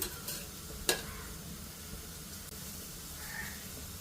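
A steady sizzle hisses from a paratha on a hot griddle, broken by a couple of sharp taps near the start.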